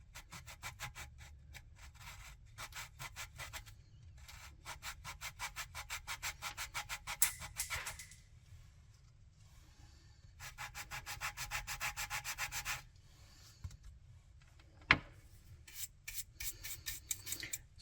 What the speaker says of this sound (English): So this is going to take some careful sanding